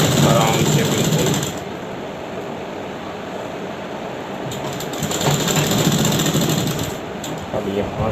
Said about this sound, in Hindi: अब यहाँ से हम इसको यहाँ तक सिलाई करा लेते हैं